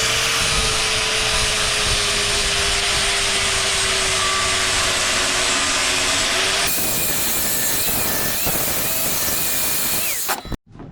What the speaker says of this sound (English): I take the grinder right now and I take it down smooth